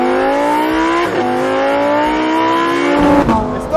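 A Lamborghini Huracan Evo, all-wheel drive with the uprated Performante engine, accelerates hard on a wet road, its loud engine note climbing steadily through the gears with brief dips at each upshift.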